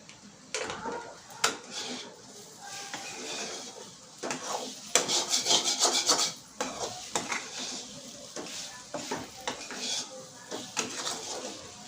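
Egg bhurji fries in a pan with a steady sizzle while a spatula stirs and scrapes against the metal in irregular strokes, clanking now and then, up close in a home kitchen.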